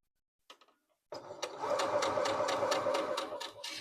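A domestic sewing machine starts after a couple of faint clicks and runs steadily at speed, its needle thumping in a fast regular rhythm close by while piecing a quilt star block.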